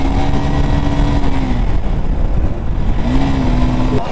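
A Bajaj Pulsar NS 200 motorcycle engine in a drag race setting holds a loud, steady drone with a slight dip and rise in pitch, close and continuous, with no voices.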